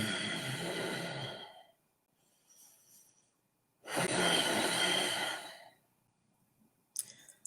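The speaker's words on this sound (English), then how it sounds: "this is what a Luna breath sounds like" Two long, forceful breaths, each a rushing airy exhale of about two seconds, separated by a quieter inhale, from a grounding yoga breathing technique called Luna breath; close to the microphone with a brief click at the end and no talking.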